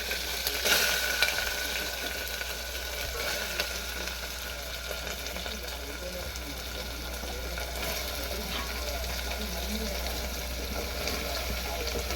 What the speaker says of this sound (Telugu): ఇప్పుడైతే బీరకాయల ముక్కలైతే వేసేద్దాము